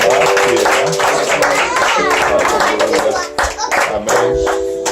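A church congregation claps together in steady, dense applause for a worshipper, the rapid hand claps loud and close, with a few voices and a child's chatter mixed in beneath.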